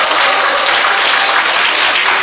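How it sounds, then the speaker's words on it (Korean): Crowd applause rings out at a Korean poetry recitation contest in honor of the judges, a dense, steady wash of many hands clapping together throughout, loud and close with no talk over it. "심사위원들께 여러분 큰 박수 한번 주세요."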